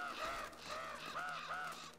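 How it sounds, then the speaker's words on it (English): Crows caw in the video game Uncharted 2, a run of about four harsh, drawn-out calls at a steady rhythm, moderately loud with no talking. "Oh, these crows."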